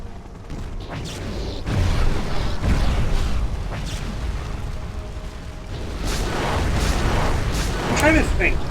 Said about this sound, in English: Look out! Mortar turrets!